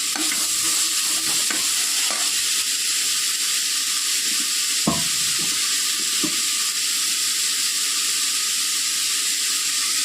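Turmeric powder sautéing in a pan for homemade idli sambar hisses with a constant sizzle, broken by a few sharp clinks and scrapes of a spoon stirring against the pan, close up with no voices.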